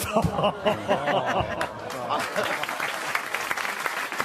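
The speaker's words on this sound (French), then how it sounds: "Il s'est auto-applaudi après son jeu de mots." A radio talk show guest claps for himself in the studio, a few quick hand claps over a lively stretch of overlapping voices, chuckles and laughter around the microphones.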